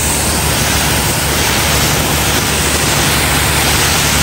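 Water rushes through a high-pressure car washer pump head that is flange-mounted to its motor, giving a loud, steady, unbroken hiss with no voices.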